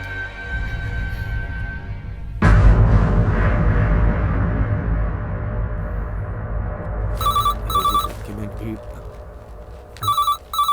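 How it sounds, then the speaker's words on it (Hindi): A telephone rings in short repeated electronic bursts near the end, with dense background music and noise running throughout in a dubbed South Indian action film scene. "सर फोन बज रहा है।"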